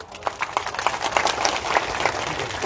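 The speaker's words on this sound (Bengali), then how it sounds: "সবাই আন্তরিকভাবে একটি করতালি উপহার দিন" A crowd at a Jaker Party political rally in Kalai, Joypurhat claps, starting sparse and building into dense applause across the short span, somewhat distant with a faint voice underneath.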